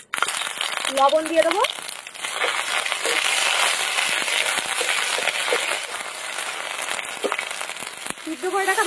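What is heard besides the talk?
ginger garlic paste sizzling in hot mustard oil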